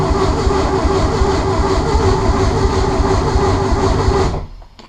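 Ford Escort Mk1 fitted with an ST170 engine, cranking over steadily on the starter without firing, a loud continuous churning whir that cuts off near the end.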